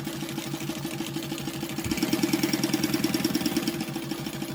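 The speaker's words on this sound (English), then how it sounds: "I'm just stitching a box around the entire pocket" Sewing machine stitching a box around a tote bag pocket on dark fabric, a rapid steady mechanical chatter that speeds up and grows louder partway through.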